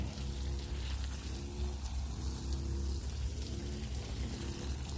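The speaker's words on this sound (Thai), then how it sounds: "ราดไปเลย ราดให้ชุ่ม ไป เลยนะ" Water splashes steadily onto potting soil, a continuous rain-like patter and hiss that stays even and fairly loud throughout, with no speech.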